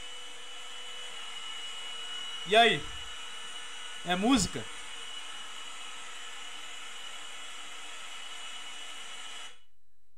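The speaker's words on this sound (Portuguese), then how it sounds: "E esse som aqui é o som do aspirador de pó." A household vacuum cleaner drones steadily with a broad, even roar for several seconds and then cuts off, while a voice briefly speaks twice over the noise.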